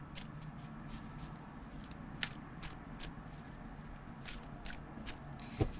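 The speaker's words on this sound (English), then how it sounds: "the overhand shuffle" Tarot cards riffle and slap in a steady overhand shuffle, a string of soft papery flicks close by, with no talking.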